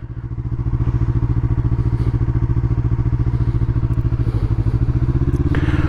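A 2019 Yamaha R3 motorcycle rides over a bumpy road, its engine a loud, steady pulsing drone throughout, with faint clatter and thuds from the rough surface and no talking.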